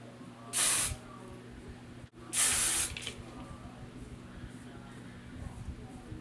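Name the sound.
hairspray being sprayed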